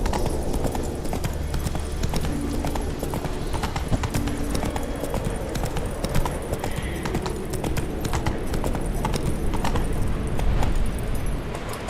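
Horse hooves clip-clop at a fast gallop in the video game The Witcher 3, a dense, continuous rapid drumming of hoofbeats with faint jangling tack, loud and close for the whole stretch.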